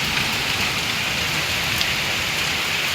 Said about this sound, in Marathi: खूप म्हणजे खूप जोरात पाऊस येतो आहे.